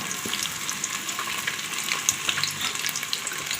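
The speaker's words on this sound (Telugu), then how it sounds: "పన్నీర్ ఫ్రై చేసుకోవాలి ఫస్ట్ మనం" Paneer frying in melted butter, with a dense, bright sizzle and crackle holding steady throughout, along with light stirring and no voices.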